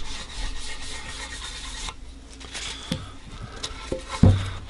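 A rag rubs black stain onto a paulownia guitar body, making close, steady rasping strokes that pause briefly, then resume, with a few light knocks near the end.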